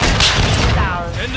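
A flashbang grenade goes off in Call of Duty: Modern Warfare 2, a loud, dense burst of blast and crackling that fills the whole moment, with a high ringing whine trailing after it amid chaotic game noise.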